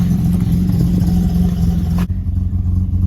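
Lexus IS200 engine idling rough with oil still burning out of the cylinders, a close, loud, uneven mechanical drone with slight clatter, ending abruptly partway through as the pitch drops.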